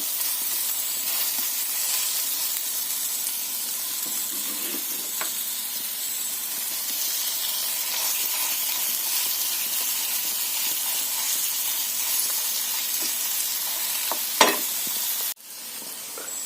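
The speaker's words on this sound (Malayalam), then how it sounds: "ചെമ്മീൻ നമ്മൾ പാനിൽ നിരത്തി ഇനി അത് പയ്യെ അവിടെ മീഡിയം ഫ്ലെയിമിലിരുന്ന് ഫ്രൈ ആയിക്കൊണ്ടിരിക്കുകയാണ്" Prawns frying in a pan over a medium flame, a steady close sizzle and hiss running without a break, with a brief clatter near the end.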